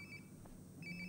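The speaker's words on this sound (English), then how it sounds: "Sounds like my phone is definitely nearby." A mobile phone ringtone chirps faintly somewhere nearby, with two short bursts of repeating tones separated by a brief pause, heard alone.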